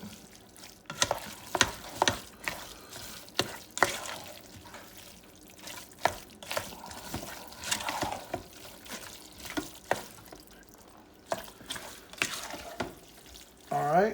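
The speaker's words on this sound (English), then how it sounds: "Then, you're going to go ahead and mix it all up really, really good." Seasoning is worked into a stuffed green pepper filling with wet, squelching stirring and scraping that rises and falls in uneven strokes, close and moderately quiet, with a brief spoken word near the start.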